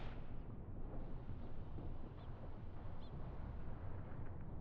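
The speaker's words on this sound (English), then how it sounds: "the artillery barrage is still ongoing, so I'll let it play out its course" Artillery barrage in the Mius Front war video game, a faint, continuous low rumble of distant shelling with no distinct close impacts.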